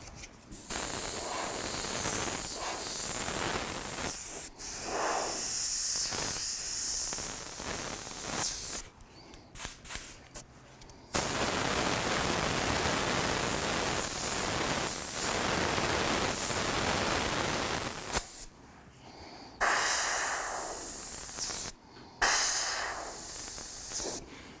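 An airbrush sprays white paint dry with more air than paint, producing a loud, steady hiss in long bursts broken by brief pauses.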